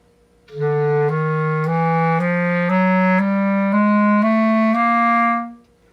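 A beginner's woodwind chromatic scale on the right-hand fingerings, played solo as eight clear sustained notes stepping steadily upward with short connected transitions, close and even in loudness.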